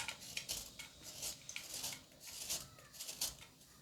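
A block of jaggery (palm sugar) is scraped on a grater for wheat kozhukkatta, giving repeated light, rhythmic rasping strokes, close and fairly quiet, with no voices.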